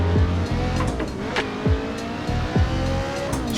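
A race car in the Assetto Corsa driving game revs as it shifts up through the gears, the engine pitch climbing steadily and then dropping at each change, with some faint tire noise and no talk.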